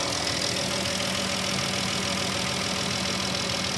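A 2013 Chrysler Town and Country engine idles steadily after an alternator replacement, a constant close mechanical hum with faint knocking and no talk.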